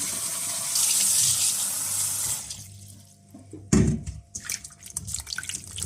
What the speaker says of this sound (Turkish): Mantarımızı yıkadık.